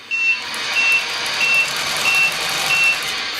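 A Tamiya Actros 3363 1/14 Mercedes-Benz 6x4 Gigaspace RC truck sounds its reversing alarm, five evenly spaced loud electronic beeps over a steady background hiss, with no talking.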